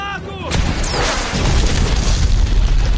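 A grenade blast from the Iron Man film's Tony Stark introduction scene: a loud, booming explosion erupts about half a second in, followed by a rumbling roar and crackling debris that continues to the end.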